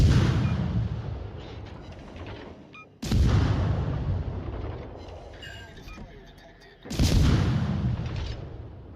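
Naval gunfire from warships in a video game battle: three heavy booming salvos about four seconds apart, each a loud deep blast trailing into a long rumbling decay, with a few faint higher clinks between them.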